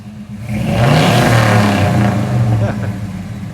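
An old car called Big Red, left sitting for years, is driven into a shop. Its engine revs close and loud in a rough, sustained mid-pitched roar that settles slightly toward the end.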